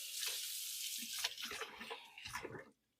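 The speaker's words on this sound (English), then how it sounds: "And give my knife a quick rinse." A kitchen tap runs steadily while a knife is rinsed under the stream, with water splashing and spattering. The flow stops abruptly near the end.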